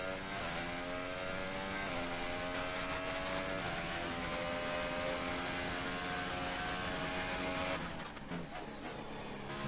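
Mercedes Formula 1 car engine in the F1 2018 racing game at the Russian Grand Prix, a loud high-revving whine holding steady through gear changes, then dropping off briefly and picking back up near the end.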